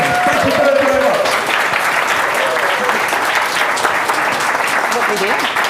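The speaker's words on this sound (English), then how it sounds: "a massive round of applause for Pablo, for Ralph, for Carson." Applause from a conference audience at a food and drink event, a sustained, dense round of clapping that stays loud throughout, with some voices mixed in near the start.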